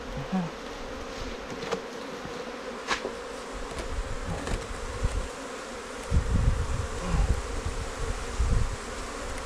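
Asian cavity-nesting honey bees buzz steadily while their hive is opened and harvested, a dense close swarm drone filling the scene with no talk.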